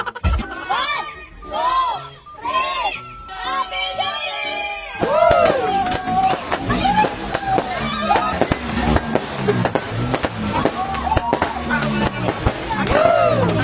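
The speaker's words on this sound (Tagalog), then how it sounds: "Busy na nga kami sa bombang papuputukin namin" Firecrackers crackle and pop in rapid bursts amid a noisy crowd with children shouting, following a stretch of voices.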